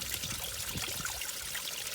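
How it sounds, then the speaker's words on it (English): A small stream trickles and burbles along the Appalachian Trail in Georgia, a close, continuous watery splashing with no voices. "It's a nice little stream, gives you enough pocket to get enough water."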